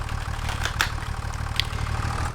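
A tractor in Farming Simulator 25 idles steadily, a low, even, chugging rumble held close and moderately loud for the whole stretch, with faint clicks above it and no talking.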